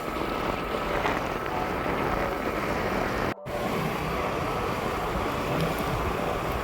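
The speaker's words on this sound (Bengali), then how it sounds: "আমি স্কুটি চালাচ্ছি" A scooter rides along a narrow road between tea bushes on the Saidabad tea estate, giving a steady, close rush of engine and wind noise throughout, with a brief dropout near the middle.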